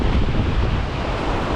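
A strong east wind buffets the microphone at a low-tide shore, a steady broadband roar of gusts and surf with no pauses, loud and close for a short stretch.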